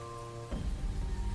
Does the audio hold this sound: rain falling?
yes